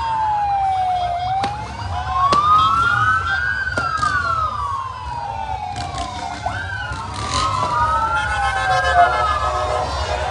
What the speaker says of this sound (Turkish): çok geniş bir eskort eşliğinde, polis eskortu.